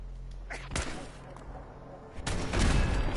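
Turret gunfire in Fallout 4 bursts out in two loud volleys, a sharp blast near the start and a heavier, sustained stretch of shots toward the end, over a low steady game rumble.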